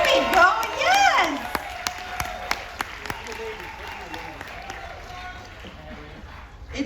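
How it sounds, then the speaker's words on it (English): Scattered clapping from an audience rings out, with chatter and cheering mixed in. "Give them a big round of applause."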